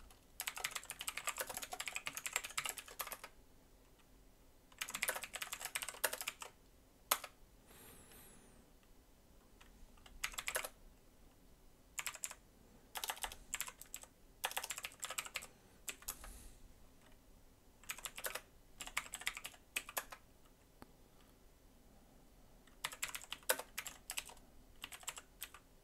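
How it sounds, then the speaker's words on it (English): Rapid bursts of clicking keystrokes on a computer keyboard as a short program is typed, irregular clusters separated by brief pauses, close and fairly quiet with no voices. "I'm going to quickly type up a program"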